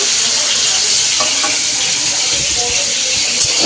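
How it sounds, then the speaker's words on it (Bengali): Potatoes and peanuts fry in hot oil in separate pans, giving a loud, continuous sizzle with faint scraping from stirring throughout. "এখানে আলু ভাজছি আর এখানে বাদাম ভাজা হচ্ছে"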